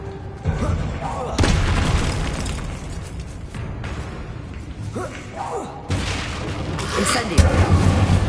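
Spell blasts from Incendio, Bombarda and Confringo boom and burst in Hogwarts Legacy during a fight with Inferi, several heavy explosions landing in quick succession amid constant rumbling combat noise.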